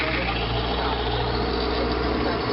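Engine running with its lubricating oil removed and only Militec-1 treatment coating the parts, a steady, droning idle with a constant low hum and no change in pace.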